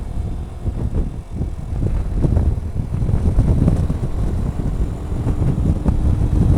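Steady wind buffeting a microphone on a mountain road, a low rumbling roar with gusty swells throughout, no voices.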